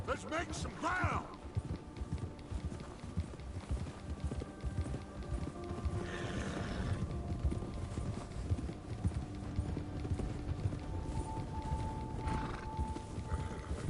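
Horse hooves gallop in Red Dead Redemption 2 with a steady, driving clip-clop rhythm throughout, a brief whinny near the start, and voices and other game sounds mixed in around it.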